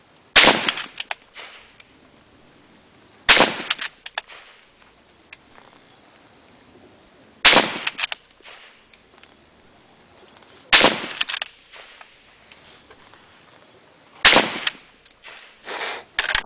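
A 1943 BSA No4 Mk1 Lee Enfield rifle fires rapidly in the Mad Minute drill, five loud sharp shots spaced a few seconds apart, each followed by the clatter of the bolt being worked.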